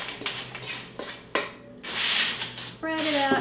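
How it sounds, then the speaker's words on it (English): Crackers coated in egg white are spread across a rimmed metal baking sheet, giving close scraping and rattling contacts, a few sharp knocks and a brief clink. "now I'm just going to spread this on a rimmed baking sheet"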